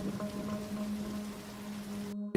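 Steady rain falls in a dark forest valley during a night drive, a soft continuous patter with a faint hum beneath, cutting off abruptly near the end.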